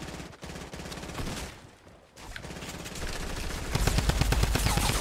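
Fortnite gunfire: rapid bursts of automatic shots rattle in quick, steady rhythm, pause briefly, then return louder and denser in a sustained volley.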